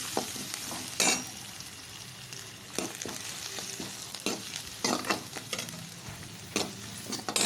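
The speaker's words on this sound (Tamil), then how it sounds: "வெங்காயம் பூண்டை முதல்ல சேர்த்து வதக்கிடலாம். நல்லா வதக்கணும், பொண்ணு நிறமாக வதக்கணும்." Onion and garlic sautéing in a pan with mustard seeds for tomato rice, a steady close sizzle broken by several sharp scraping stirs of the spoon, with no voices.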